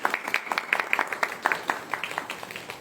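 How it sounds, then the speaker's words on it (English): A small audience claps at a book launch, crisp, fairly close hand claps in a quick uneven patter that slowly thins out. "Let's give them a big round of applause."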